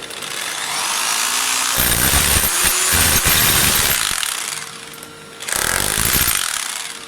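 A loud hammer drill chisels steadily into a masonry wall for electrical rewiring, a harsh rattling roar that pauses briefly before resuming, close up with no voices.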